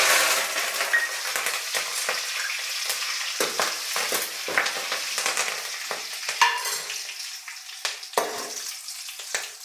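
Mustard seeds, dry chillies and curry leaves fry in hot oil for a rasam tempering, giving a steady close sizzle broken by sharp crackling pops and spits throughout, with no voices.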